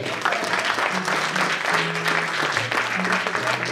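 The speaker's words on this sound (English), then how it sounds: "I want to clap to you all." Applause from a group fills the room, steady and fairly loud, with a voice talking over it.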